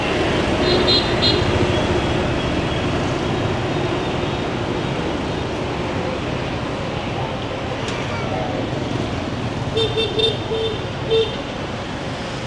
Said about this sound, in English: People honk to let you know that they're coming.